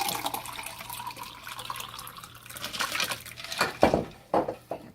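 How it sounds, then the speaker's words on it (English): Iced tea pours from a container into a drinking glass, a steady liquid trickle building to splashier gurgling bursts near the end, close and fairly loud. "poured it in my drinking glass"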